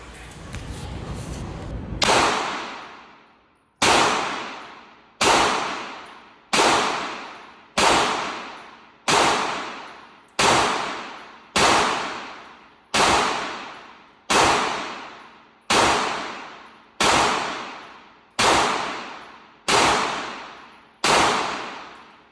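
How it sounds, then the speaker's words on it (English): A Smith and Wesson M&P 9 2.0 9mm pistol fires about fifteen sharp, loud shots at an outdoor range, spaced evenly and deliberately roughly every 1.3 seconds, each crack followed by a brief decaying echo. "I take nice, slow, methodical shots overall, just to work on my accuracy"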